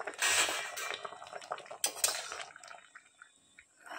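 A metal lid is lifted off a village-style cooking pot of simmering bottle gourd leaves, giving a few sharp clanks and clinks up close, then softer scrapes and faint bubbling.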